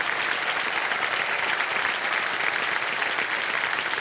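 Steady, dense studio audience applause on a TV quiz show set as a contestant wins a five lakh rupee cheque, sustained at an even level throughout with no talking.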